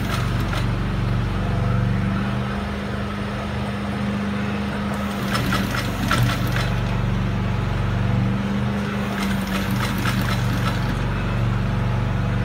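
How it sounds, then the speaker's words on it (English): An industrial sewing machine stitches the flap of a designer-style leather bag, a steady low motor hum running throughout with two brief, brighter bursts of stitching noise partway through. "Now we're sewing the flap."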